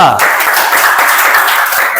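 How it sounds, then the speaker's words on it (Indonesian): A classroom audience claps for a student who has just presented a school project on plastic waste, giving dense, steady applause that fills the whole moment. "Oke, tepuk tangan untuk Kristo"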